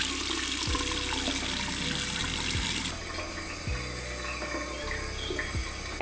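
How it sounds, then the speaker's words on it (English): Tap water runs steadily into a sink while someone rinses a clay mask off their face, a continuous close splashing wash with a few brief thuds of hands and water, the flow softening slightly partway through. "So I'm gonna quickly just rinse this off."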